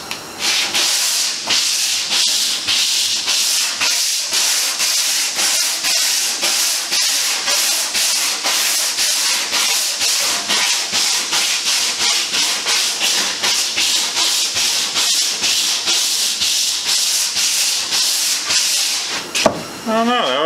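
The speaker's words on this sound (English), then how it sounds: "But what I'm thinking is hitting it with the belt sander." A belt sander grinds across a skim-coated surface on an Tango 18 boat hull, a loud, steady abrasive hiss with rhythmic pulses as it passes back and forth, running continuously for about twenty seconds.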